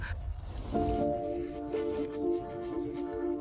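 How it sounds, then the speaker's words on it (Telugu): Heavy rain pours in a steady, dense hiss, with a low sustained tone humming underneath throughout. "వర్షం చాలా ఎక్కువగా ఉంది"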